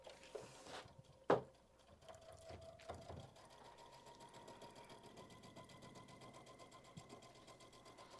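A sewing machine back stitching at a quilting event runs in a soft, steady mechanical whir with a few clunks and clicks at the start, faint and continuous.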